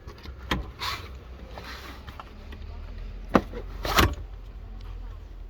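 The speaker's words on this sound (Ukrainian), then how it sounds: "Складується сидіння." The seat of a 2017 Renault Grand Scenic 4 folds under power, with a soft motor whir inside the car and sharp clunks as the mechanism latches.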